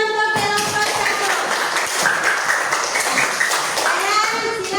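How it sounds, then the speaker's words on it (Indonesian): Classroom of children clapping for a student group, a dense burst of close applause lasting several seconds with children's voices chattering over it. "Oke, tepuk tangan untuk kelompok 1."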